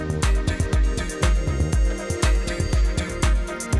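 A computer motherboard with a memory fault, its RAM removed, sounds loud, rapid, regularly repeating electronic beeps through its power-on self-test.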